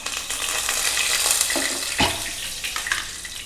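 Curry leaves dropped into hot oil for a semiya upma, giving a loud, steady crackling sizzle close by with a sharper pop partway through and no talk.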